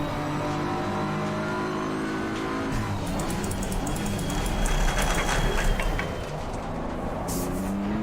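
Race car engine in Assetto Corsa Competizione VR on a wet Zandvoort or Spa track, revving loud and steady through a hot lap, with pitch swinging up and down through shifts and brief tire squeal.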